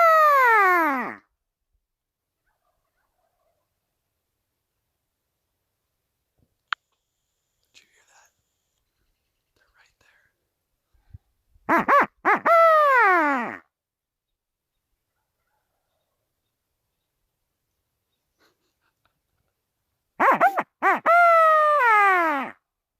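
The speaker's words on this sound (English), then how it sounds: "That was way more than 2 gobblers." Several loud, rapid gobbling calls from more than two wild turkey gobblers in the Colorado mountains ring out in three separate bursts, separated by long stretches of near silence with faint rustles.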